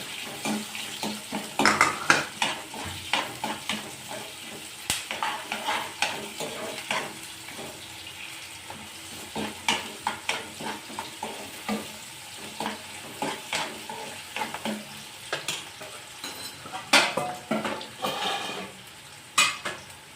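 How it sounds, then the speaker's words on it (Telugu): Sliced onions sizzle and crackle in hot oil for Nellore-style vada curry, with frequent stirring and utensil clinks against the pan, steady and close throughout with no talking. "ఆనియన్స్ వేస్తున్నాను. ఇది బాగా కలర్ తిరగాలండి."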